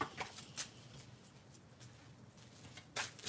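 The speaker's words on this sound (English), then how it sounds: "Let me just shuffle the cards." Tarot cards are shuffled during a career reading, giving several short crisp riffling bursts close by with quiet pauses between them.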